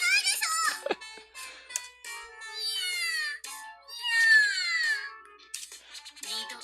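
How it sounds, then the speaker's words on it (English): Several high, wavering cat meows from the video game The Fruit of Grisaia follow one another, some drawn out and sliding in pitch, fairly close and clear with short pauses between. "It just meowed again."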